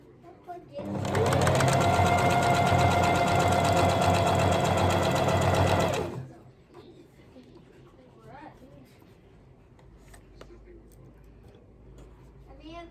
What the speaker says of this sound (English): let's sew this 1 centimetre seam on the hood